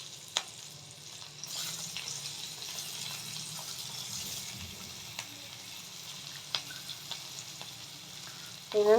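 Onions frying in a pan for chicken soup make a continuous sizzle with sporadic utensil clicks and a sharper clatter near the end, with no one speaking.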